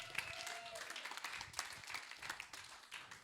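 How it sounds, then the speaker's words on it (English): Audience at a 4/20 stand-up comedy show at Sip Studios in Jersey City applauds and claps for a comedian, a steady, fairly faint wash of hand claps from a room crowd with a few louder individual claps. "Clap it up for Justin."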